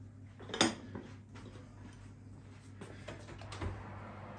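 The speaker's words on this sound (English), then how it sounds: "let's put this in the oven and see how the experiment turns out" A casserole dish is set into an oven with a sharp clank of dishware against the rack, followed by fainter scraping and knocking of cookware, all quiet and without talk.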